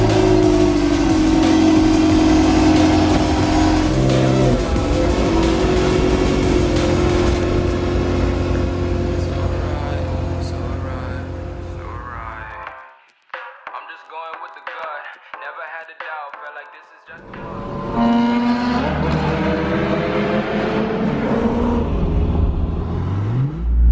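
Ferrari 355 sports car engine loud and steady while driving, a sustained revving drone with a brief drop to near quiet midway before the engine roars back up.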